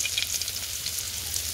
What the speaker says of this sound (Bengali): তেলটা গরম হয়ে গেছে, তাতে দিয়ে দেবো একটু রসুন কুচি